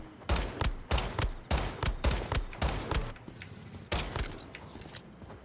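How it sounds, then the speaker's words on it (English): Pistol shots in an open-world video game with a supernatural bent: about eight evenly spaced, punchy reports, fairly loud and close, with a quieter gap before the last couple. "Actually, I'm gonna use the pistol for this."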